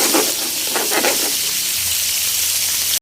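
Milkfish fillet frying in a non-stick pan, a steady loud close sizzle and hiss throughout, with faint stirring movement early on and no talking.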